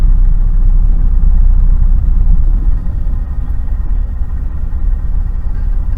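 A truck pulling a trailer on a road near Utica, New York gives a steady, loud low rumble of engine and road noise throughout, with no voices.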